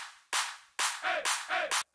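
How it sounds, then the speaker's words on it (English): A crisp electronic clap sample from an EDM drop hits five times in an irregular pattern, each a bright, sharp burst with a short decaying tail, played alone in a production session. "And then for the drums we have a simple clap."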